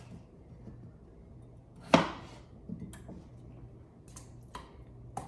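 A knife cuts potatoes into cubes on a board for mashed potatoes, a few sharp chops spaced out over several seconds, close and fairly quiet over faint room hum.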